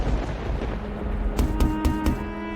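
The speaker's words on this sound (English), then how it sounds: "suddenly there was a loud banging on the door" Loud banging on a door at night, four or five sharp knocks in quick succession over a low rumbling background.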